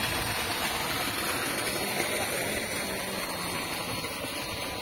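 A faint, steady motor hum runs continuously with a soft hissing wash from a quiet solar-powered water pump running at a distance.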